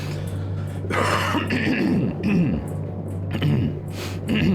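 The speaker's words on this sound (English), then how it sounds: "I should have muted that cough" A man coughs and clears his throat close to the microphone, a few harsh bursts with talk-like sounds around them.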